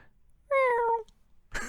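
A person gives a single drawn-out imitation of a cat's meow, loud and close, with a brief breathy sound after it.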